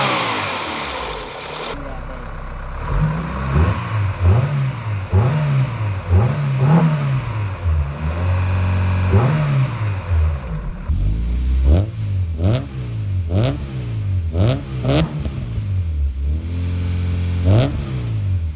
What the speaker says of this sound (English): we're gonna give it a few revs and see what it sounds like